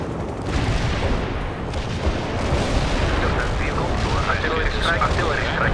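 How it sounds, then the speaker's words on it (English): Artillery strike in the game World in Conflict, a dense, continuous rumble of booming explosions and gunfire that keeps loud throughout, with a voice speaking over it. "Artillery strike on the way."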